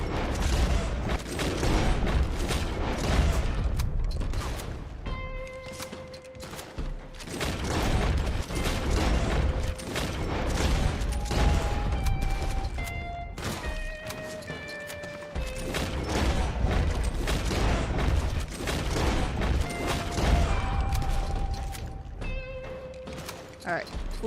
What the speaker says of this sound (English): when you have so many enemies shooting at you